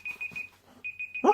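Steady high electronic beeping repeats in short pulses from a timer or alarm in a kitchen, clear and fairly close, with brief soft handling noises between beeps and a louder thump at the end.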